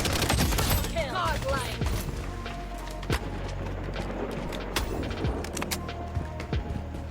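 Bursts of gunfire from the BloodStrike video game, dense rapid shots with sharp single cracks mixed in, fairly loud and continuous, with no talk over them.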